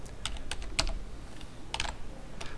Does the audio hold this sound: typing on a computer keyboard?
yes